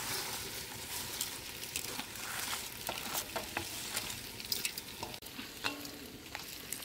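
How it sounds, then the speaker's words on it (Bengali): Fried Gobindobhog rice tipped into spice paste frying in a pan for village-style Bengali khichuri, a soft steady sizzle broken by scattered scraping and stirring clicks, with no one speaking. "এবার আমি এতে ভেজে রাখা চালটা দিয়ে দেব।"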